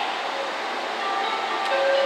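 A JR West 227 series three-car local train on the Kure Line rumbles steadily into Hiroshima station, a broad rolling hiss with faint squealing tones rising near the end as it slows.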